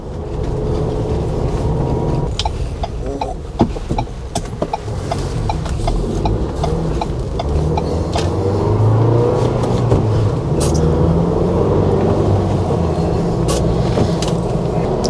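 Ford Bronco with a 7-speed manual gearbox driven through town in second gear: a steady, fairly loud engine and road rumble from inside the cabin, with small clicks and a slight rise in revs, and no speech.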